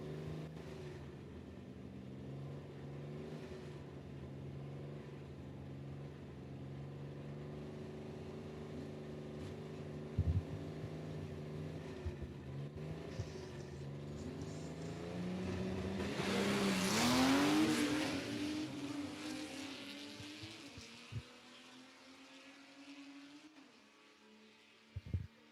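H-Gas gasser drag cars, one a Studebaker, race at a dragway: a steady engine drone builds into a loud rising roar as a car passes close, then trails off into the distance.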